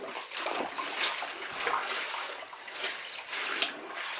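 Green vegetables for rabbits and guinea pigs rinsed in water in a bowl or sink. Steady close running and splashing water churns throughout with brief swishes and no talking.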